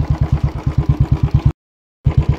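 A motorcycle jolting along a rough village road in hilly rural Nepal, its engine thudding in a fast, steady pulse with clattering bumps, loud and close, cutting out briefly before resuming.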